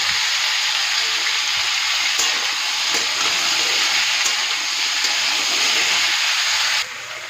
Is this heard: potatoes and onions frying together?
yes